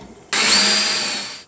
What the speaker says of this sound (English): Put a mark and drill.